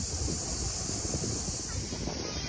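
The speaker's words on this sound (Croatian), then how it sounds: "Vjetar još nije stao." Strong maestral wind on the Adriatic coast, a steady loud rush of microphone buffeting with faint surf underneath, unbroken throughout and with no talking.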